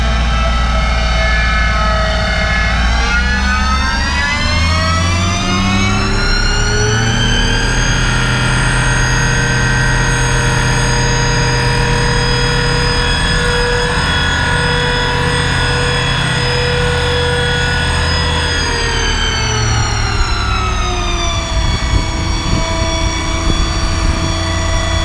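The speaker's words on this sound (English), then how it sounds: "Let's see if we can't get the compressor wound up." A Vanair air compressor mounted on a 2016 Ford F350 XL crew cab with a 6.7L diesel runs close and loud. The engine drone climbs in pitch as it winds up, holds at a high steady whine, then winds back down toward the end.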